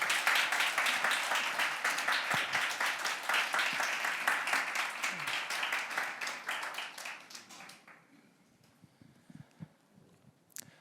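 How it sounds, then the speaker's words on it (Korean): A church youth congregation applauds to welcome a guest lecturer, with steady full clapping for about seven seconds that then trails off into scattered claps and a few soft knocks. "박수."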